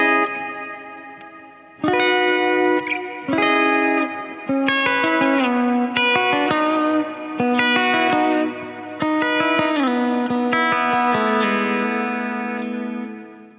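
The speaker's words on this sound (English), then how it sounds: "this one's like a medium style verb" Electric guitar played through a medium, cloudy reverb on a Quad Cortex for a worship preset, with sustained chords and single notes that swell and leave a soft wash between phrases, clear and alone.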